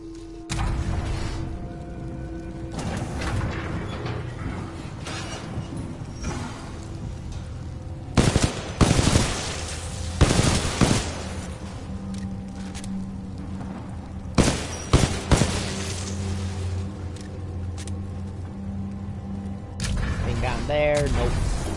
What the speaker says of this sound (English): It's a burst rifle.